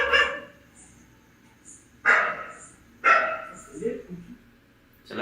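A dog barks repeatedly toward a room near a gated entrance, loud sharp barks spaced about a second apart, with softer whimpering yips between them.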